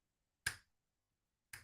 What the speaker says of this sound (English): you forget that you're snapping your fingers in time with the music